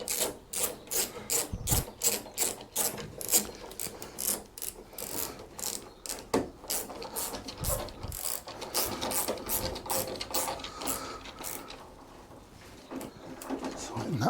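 A ratchet clicks quickly and steadily, close and continuous, tightening a bolt on the inner wing panel of a classic Vauxhall Royale Coupé under restoration, with faint metallic rubbing mixed in.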